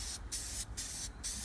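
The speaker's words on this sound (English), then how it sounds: "I'm just gonna lightly spray it." Three short bursts of aerosol air filter oil spray onto a high-flow motorcycle air filter, hissing in quick succession, close up, separated by brief pauses.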